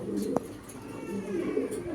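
A male blue racer pigeon coos softly in a low, rolling murmur that rises and falls over two seconds, with a brief sharp knock partway through and faint background noise.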